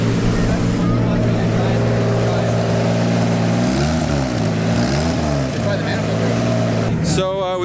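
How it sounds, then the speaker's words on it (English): A drift car with a suspected leak at the turbo manifold revs close by, giving a loud droning engine note with two swelling rev sweeps. A voice cuts in briefly near the end. "Rev it up a little."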